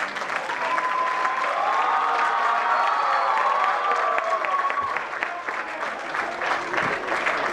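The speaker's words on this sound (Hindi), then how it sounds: "बच्चों, जोरदार तालियां।" A large audience claps loudly and continuously, with a few cheers and shouts rising above the sustained applause.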